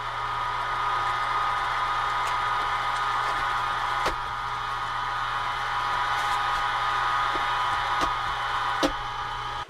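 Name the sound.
meat grinder grinding deer and wild hog sausage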